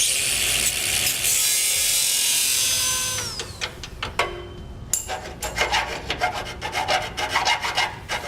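Cutting through a base plate mounting panel on a 2007 Saturn Vue with a reciprocating saw or cut-off wheel: a loud steady grinding whine for about three seconds, then a series of sharp rasping strokes and scrapes.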